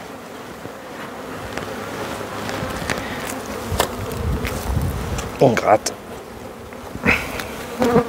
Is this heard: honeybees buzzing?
yes